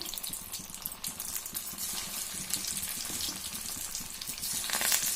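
Sabudana punugulu fritters frying in hot oil, a soft continuous crackle and bubbling sizzle that grows slightly louder toward the end, with no talk.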